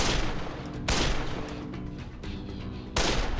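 Gunfire in the Dead Island video game: about four loud, sharp shots at uneven intervals, each with a booming tail, over a continuous rumbling background.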